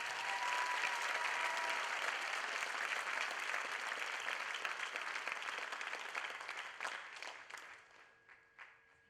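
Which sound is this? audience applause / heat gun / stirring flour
audience applause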